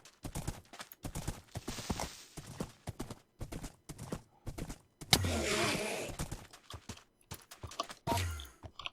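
Minecraft horse hooves clip-clop in quick, regular bursts of close, sharp knocks, broken by a couple of louder rushing noises.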